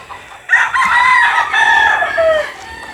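A gamefowl broodstag rooster crows loudly and close by, a long drawn-out call with clucking fowl faintly in the background.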